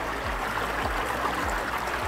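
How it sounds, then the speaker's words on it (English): A dirty river flowing below a zipline course, heard as a steady, broadband rush of water that stays even and continuous throughout, close and fairly loud, with no voices. "Look, that's a river."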